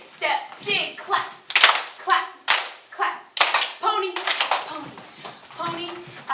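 Sharp hand claps ring out at intervals during a children's dance rehearsal, several distinct loud strikes mixed with an adult calling counts and steps over children's voices.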